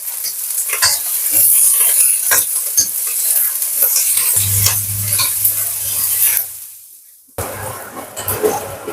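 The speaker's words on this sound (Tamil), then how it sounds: "வெங்காயம் கருவேப்பிலை மிளகா போட்டு நல்லா வதக்கிடுங்க பொன்னிறமா வதக்கி வதக்கிக்கணும்" Onions, curry leaves and chilies frying in hot oil in a pan, a loud close sizzle with sharp stirring scrapes, a low hum joining partway, a brief drop to near silence, then sizzling resumes.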